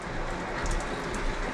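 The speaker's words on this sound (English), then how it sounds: "It just so happens that right now is a great big rain squall. The rain is pouring." Heavy rain pouring down in a big rain squall in remote Alaska, a dense, steady hiss of drops beating on surfaces, loud and unbroken throughout.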